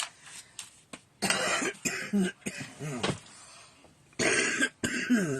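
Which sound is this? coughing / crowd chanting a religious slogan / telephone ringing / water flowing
coughing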